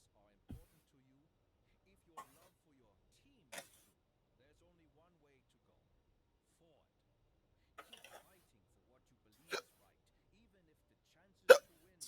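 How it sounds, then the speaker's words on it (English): Hiccups from a person, a few faint, sharp isolated catches spaced several seconds apart in an otherwise quiet room, growing slightly louder toward the end. "Excuse me, got hiccups."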